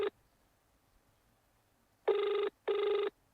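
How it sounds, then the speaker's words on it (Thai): An old-style telephone bell rings in a horror game: one short burst clipped at the start, then after a quiet gap two clear, loud rings in quick succession. "ไปหยิบโทรศัพท์ ไปดูว่าใครโทรมาอย่างนั้นเหรอ"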